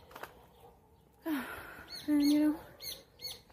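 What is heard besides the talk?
birds chirping outdoors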